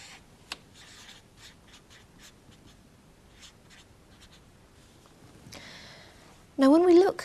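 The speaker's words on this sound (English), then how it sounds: "And I'll just quickly sketch you a graph if I can." A pen scratches across paper while sketching a graph of x squared, with a soft, faint run of short strokes. A voice speaks briefly near the end.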